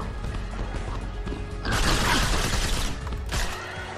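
Elevator in the video game STRAFE, a loud grinding mechanical rumble with rattling and clanking that swells midway, holds for over a second, then briefly surges again.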